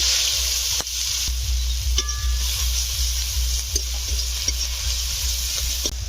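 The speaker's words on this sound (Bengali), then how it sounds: "পেঁয়াজ আর কাঁচা লঙ্কা কুচি দিচ্ছি" Chopped onion and green chili sizzle steadily in a hot pan for a Bengali country-chicken curry, a continuous close frying hiss with a few soft stirring scrapes and no voices.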